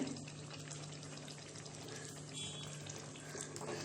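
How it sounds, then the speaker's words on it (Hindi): Hot water pours steadily into a pan of Kashmiri chicken masala curry, a continuous close rushing flow with a low hum beneath and no talking. "इसमें अब हम पानी मिलाएंगे, लेकिन पानी हमें गरम करके डालना है, ठंडा नहीं ऐड करेंगे।"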